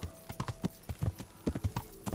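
Horse hooves clip-clop steadily in Kingdom Come Deliverance, a medieval role-playing game: a brisk, even run of close, crisp hoof strikes with no talking over them.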